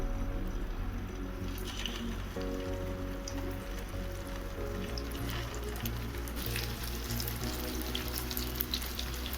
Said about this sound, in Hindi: चलिए कटलेट डाल दिए हैं फ्राई होने के लिए।